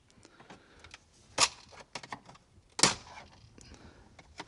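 Rapid ratchet clicks while 8mm bolts come out of a Ford Fusion's center console, in short irregular bursts with two louder snaps, close and fairly quiet.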